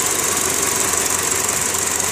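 A small car's engine strains along a muddy dirt road with mud packed into its engine compartment, giving a loud, steady, rough drone that holds without a break.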